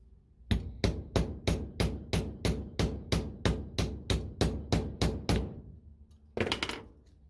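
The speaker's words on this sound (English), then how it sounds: "Slide your belt loop in, and then set the second rivet washer in place." A hammer strikes a rivet and washer set on a leather belt loop, about fifteen sharp, evenly spaced blows close up, then a pause and one or two final taps.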